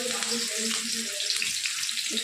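Chopped onion and chili hit hot oil in a pan, giving a steady, bright hiss and sizzle across the whole moment, with someone talking faintly beneath it.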